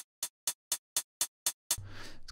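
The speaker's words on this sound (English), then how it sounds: "Classic closed hi-hat-ish shakery sound" Closed hi-hat-like shaker in a melodic house track, struck in an even run of eight crisp, bright hits, then a sustained noisy wash with a low hum underneath.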